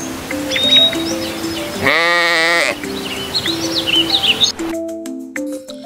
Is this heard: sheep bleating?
yes